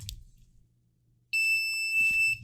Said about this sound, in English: It is almost an ear-piercing alarm.